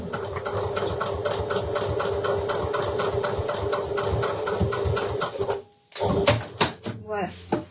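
A sewing machine runs a long continuous seam along a bag lining, a fast, even mechanical rattle that goes on for several seconds, then stops and leaves a few knocks and handling sounds.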